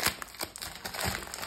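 Someone opens a package envelope with close, crisp crinkling and tearing of paper or plastic, in a quick run of sharp rustling bursts with no talking.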